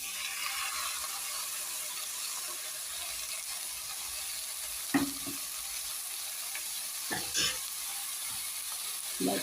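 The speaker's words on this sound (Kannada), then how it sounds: "ಈ ಥರ ಸ್ವಲ್ಪ ರೋಸ್ಟ್ ಆದಮೇಲೆ ಈಗ ನಾನು ರುಬ್ಬಿಸ್ಕೊಂಡಿರೋಂಥ ಮಸಾಲವನ್ನು ಇದರೊಳಗೆ ಹಾಕ್ತೀನಿ" Ground masala frying in a pan, a soft continuous sizzle with a few sharp clinks and scrapes of stirring scattered through.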